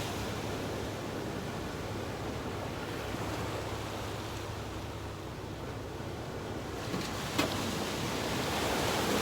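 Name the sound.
sea waves rolling onto the beach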